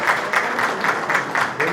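Members at a church men's missionary association general assembly clap in rhythmic unison, with about four even bursts each second, to encourage outgoing officers. The clapping is close and fairly loud.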